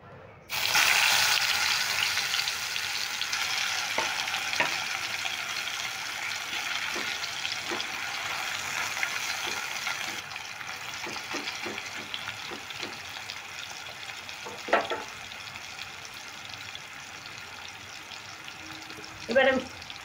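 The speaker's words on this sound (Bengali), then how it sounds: "এবার একে একে কুমড়োগুলো ভেজে নেব।" Pumpkin pieces hit hot, smoking oil and break into a loud, steady sizzle that holds for most of the stretch, with small clinks and a couple of brief knocks standing out near the end.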